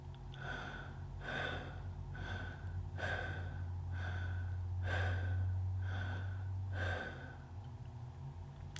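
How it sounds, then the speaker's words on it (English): Connected breathing, with eight rhythmic breath cycles drawn in and released without pause, each audible inhale and relaxed exhale close and soft against a quiet room hum. "The connected breath will look like this. We draw in on the inhale and relax on the exhale without pause."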